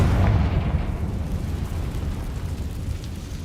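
Confringo fire spell explosion in Hogwarts Legacy, a single loud deep burst that rumbles and slowly fades over a few seconds, with no talk.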